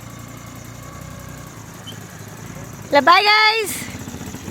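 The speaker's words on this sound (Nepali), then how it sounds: "दीपक दाईको स्कुटर" A scooter engine idles with a low, steady hum in the background, while a voice speaks briefly over it near the end.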